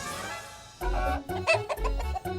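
A person imitates a rooster crowing in a few short, strained, voiced bursts, close and fairly loud.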